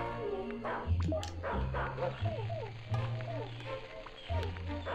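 Small dog barking and yipping in the Disney Pixar Up PS2 video game, several short barks scattered over game music, with a voice speaking over it.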